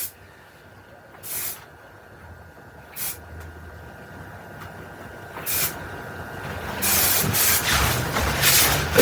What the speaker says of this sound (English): And one final spray.